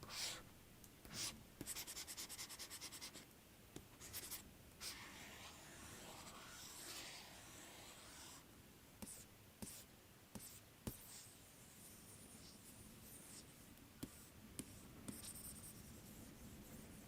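A pen writing on the e-ink screen of a Bigme Inknote Color+ tablet, gritty scratchy strokes with occasional sharp taps, close and fairly quiet with no talking.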